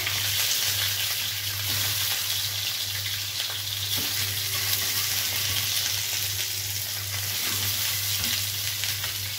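Peeled boiled eggs fry in ghee in a pan, giving a steady, dense sizzle that stays even and close throughout, with faint stirring ticks and no voices.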